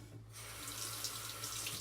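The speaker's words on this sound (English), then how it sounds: "let me add some water to this" Water runs steadily from a tap in a continuous broadband rush after a brief quiet start, close and fairly loud, with no voices.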